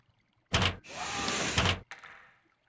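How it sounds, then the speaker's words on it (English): A cell door opening in the video game Shadowgate 64, heard alone and near as a heavy thunk, then a sustained sliding scrape of about a second that ends in a second thud, with a faint rustle after. "You hear a rustling at the door to your cell."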